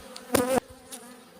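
Honeybees buzz close by during winter hive work as frames are shaken off, with one loud, brief burst of buzzing followed by fainter, scattered buzzes and light handling sounds.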